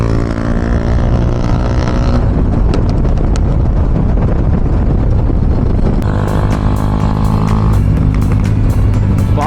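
A motorcycle on a long highway ride near Hyderabad gives a loud, steady engine drone mixed with rushing wind, and sharp crackling exhaust pops sound toward the end.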